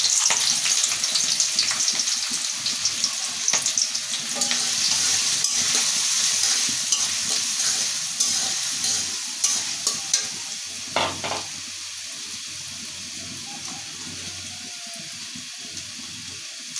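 Whole garam masala spices and onion fry in hot oil with a loud, steady sizzle and stirring scrapes, easing off in the final seconds.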